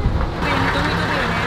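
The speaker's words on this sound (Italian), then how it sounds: "Scusate il vento altissimo, spero mi sentiate." Strong wind buffeting the microphone outdoors on a breezy day while touring bays near Nosy Be in Madagascar, a loud continuous roar throughout the short moment with no talking.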